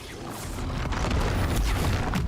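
A blast from the Confringo explosion spell in a wizard video game, a dense, loud rumbling burst that swells and sustains for a couple of seconds with crackling debris throughout.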